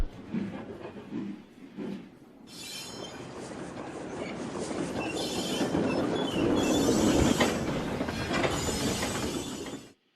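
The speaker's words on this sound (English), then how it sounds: "That's a really long train." A long train rumbles past nearby, a steady roar of wheels and rail clatter with high metallic squeals, building and lasting until it cuts off.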